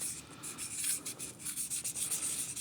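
A vintage wooden pipe being hand-sanded with fine-grit paper, soft repeated rubbing strokes in an uneven rhythm, quiet and close with no talking.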